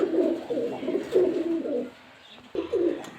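A lace pigeon coos up close in a few throaty, rolling bursts, with a short pause before the final coo.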